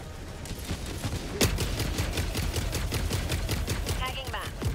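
Sustained rapid automatic fire from a deployed sentry machine gun in a co-op shooter game, a dense fusillade of sharp cracks after one loud opening bang, close and continuous, with faint voices underneath.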